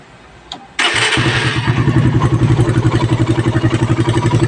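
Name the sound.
Suzuki Raider motorcycle engine starting and revving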